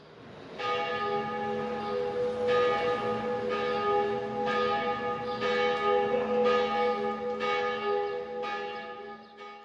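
A church bell tuned to A-flat 3, an octave above the big bell, strikes about six times at a steady rhythm, each stroke ringing out with a long, overlapping shimmering hum that never fully decays between blows.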